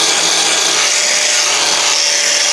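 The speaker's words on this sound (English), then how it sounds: "Now I like to use a flat disc just to kind of, I'm gonna say feather it out, kind of get these deeper scratches out." An 80 grit resin fiber flat disc on a grinder sands down welds on a truck cab mount relocation, giving a steady loud abrasive grinding hiss that runs unbroken and close up throughout.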